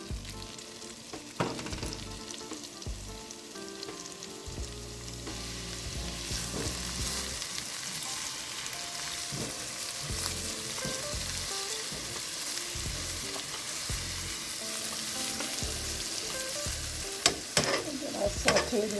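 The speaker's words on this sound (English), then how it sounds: "Now I'm melting my butter to saute my onion garlic first" Onion cooking in melted butter in a pan, a steady close sizzle with frequent scraping and stirring clatter from a utensil, continuing throughout with a few sharper knocks near the end.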